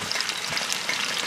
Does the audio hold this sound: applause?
no